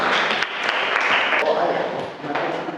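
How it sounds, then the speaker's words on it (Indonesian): A classroom of students applauds a classmate, giving dense, steady clapping that runs the whole time with a few sharper knocks, close and fairly loud. "Tepuk tangan dong untuk Najlah."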